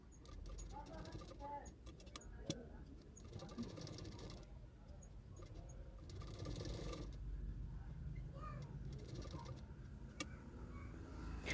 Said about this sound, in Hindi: अभी उसके ऊपर ऊपर मैं सिलाई कर दूँगी